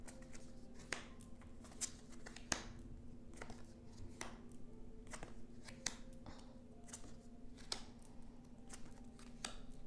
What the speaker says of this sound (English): so we're going to cut the cards and see what comes up